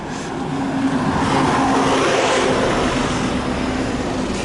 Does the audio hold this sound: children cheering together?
no